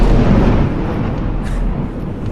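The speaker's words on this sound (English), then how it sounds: "that was a rather large explosion" A large explosion booms at the start and decays into a dense, broadband rumbling roar that lingers loudly, with no voices.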